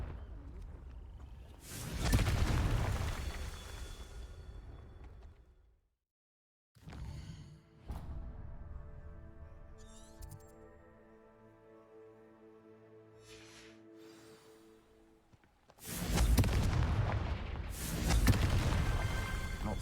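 Confringo exploding-spell blasts in the Hogwarts Legacy video game: two loud booming bursts with a whooshing rush, separated by a quieter stretch of layered game music and ambience, with no talk.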